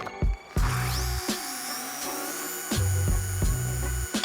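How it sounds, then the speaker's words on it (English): A car polisher works on paint with polish, its motor whirring in a fairly steady drone that is interrupted by several short pulses and changes in pitch. The sound is moderately close, and nobody speaks. "I'm just going slower passes, letting the polisher do the work."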